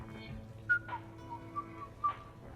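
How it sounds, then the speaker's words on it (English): Short whistled notes from a character in the Mass Effect video game, a few brief tonal chirps spread over a couple of seconds, faint against a low ambient game background with no talking. "Are you whistling?"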